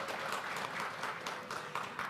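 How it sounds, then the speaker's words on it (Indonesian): Applause from the audience at a 2024 Yogyakarta mayoral candidates' public debate, a brief, even burst of many hands clapping in a hall, moderately loud and with no voices. "Boleh kita beri tepuk tangan terlebih dahulu"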